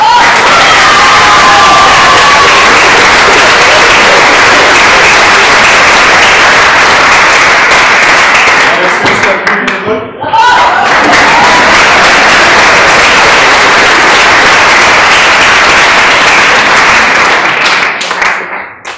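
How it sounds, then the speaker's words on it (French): Theatre audience applauding and cheering for the stage manager after a Celtic-themed play performance, a loud, dense wall of clapping with crowd shouts that briefly dips around the middle before swelling again and fading at the end. "Autant d'applaudissements pour Julien, qui est notre régisseur"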